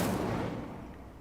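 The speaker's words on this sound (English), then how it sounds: "Incendio." A single Incendio fire spell cast in Hogwarts Legacy: a loud, close burst of fiery rushing noise that flares at once and then fades away over about a second.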